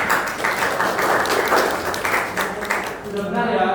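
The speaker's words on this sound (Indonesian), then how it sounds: "Berikan aplaus untuk mereka berdua." An audience at a student presentation at SMA Stella Maris school claps, giving a few seconds of close, dense applause that tapers off at the end.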